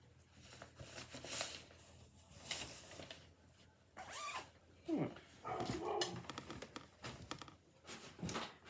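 A household dog barks somewhere off at the back door of a home, several faint, separate woofs spread across the stretch, distant and quiet beneath low indoor clatter.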